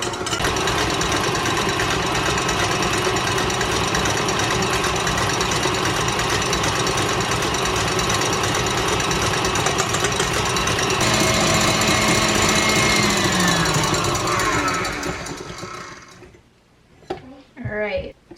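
An electric mixer whips six egg whites with a loud, continuous buzzing whir that shifts tone partway through, then winds down and stops, followed by brief clatter and a voice.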